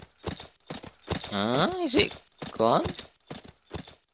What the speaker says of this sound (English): Where's that fat horse?